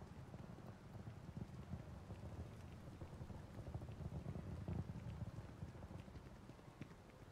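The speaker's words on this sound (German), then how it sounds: "Okay, jetzt regnet's." Steady rain in the video game Starfield pours down with a constant hiss and patter, faint and even throughout, with no voices.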